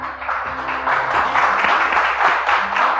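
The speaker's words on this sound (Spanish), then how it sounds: "Dale un fuerte aplauso, Señor." A church congregation applauds loudly and steadily, dense clapping from many hands filling the room for the whole stretch.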